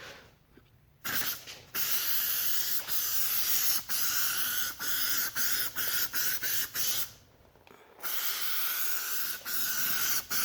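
Spray can applying guide coat to the body of a 1978 Monte Carlo, a series of close hissing bursts broken by brief pauses and a longer gap.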